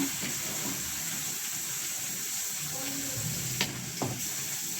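Spice paste frying in a pan at home, a steady soft sizzle and hiss running throughout with a few brief clinks near the end.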